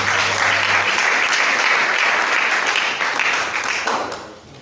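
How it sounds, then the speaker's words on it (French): Audience applause for the speaker at a public debate on mpox, a dense, loud burst of many hands clapping that holds steady and then fades out over the last second. "Encore une fois, c'est l'applaudissement"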